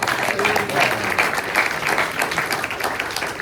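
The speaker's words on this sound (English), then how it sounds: "I think we ought to give him another round of applause" A room full of guests at a press luncheon applauds, with brisk, close clapping that rises and falls slightly in a continuous burst lasting a few seconds.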